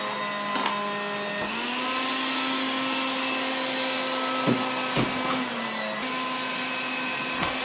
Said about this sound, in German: Also wie man hören kann, saugt der, wenn ich das Gerät ans Fenster halte, stärker.